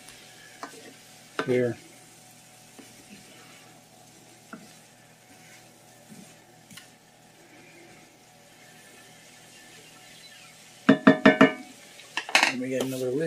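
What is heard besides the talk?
spatula cutting vegan chick'n pieces frying in a pan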